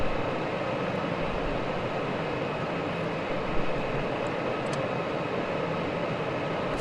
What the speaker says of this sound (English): Flaps are now moving down the second stage.